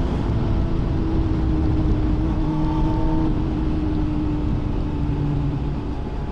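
A loud motorcycle engine drones steadily at close range while riding through rapeseed fields, a heavy low rumble with a constant mechanical hum and no talking.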